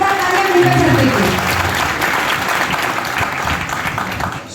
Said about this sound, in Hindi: तो तालियां, जोरदार तालियां मिलकर सकते हैं।